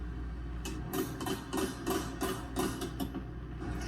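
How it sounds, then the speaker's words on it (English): Light, quick metallic taps from a small glazing hammer setting glazier points in a window, about eight evenly spaced strikes in a steady rhythm, close by and fairly quiet. "For that, we use a glazing hammer."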